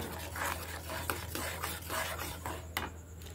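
A spoon stirs a sandesh mixture with a spoonful of ghee in a pan, making faint repeated scraping and rubbing strokes with a light metallic clink near the end, quiet and close, no voices.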